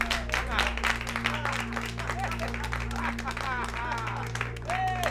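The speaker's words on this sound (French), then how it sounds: "Hé, hey, applaudissez! Applaudissez!" A group of people applauding, brisk clapping mixed with crowd noise and bits of voices over a steady low hum, fairly close and continuous.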